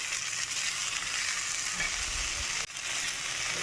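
Salted corn kernels frying in oil on a tava, a steady close sizzle with a light scrape of stirring partway through.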